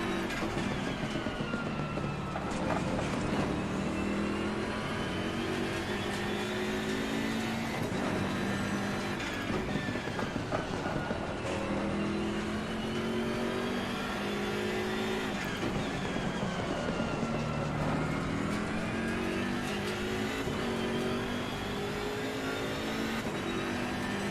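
A GT3 race car engine in the racing simulator Assetto Corsa Competizione roars continuously around Brands Hatch during a league race, its pitch climbing and dropping with repeated gear changes and throttle lifts over a steady drone.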